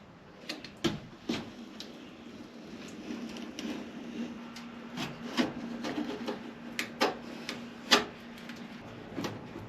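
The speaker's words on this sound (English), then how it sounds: "if I continue to just run that blade around it, it should pop off" A blade is run around the edge of a fiberglass camper van flare to pop it free, giving scattered scraping and cracking clicks of varying loudness over a faint steady hum.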